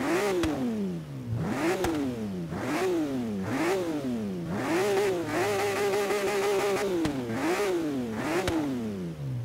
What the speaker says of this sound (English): this thing actually has a naturally aspirated straight 6 engine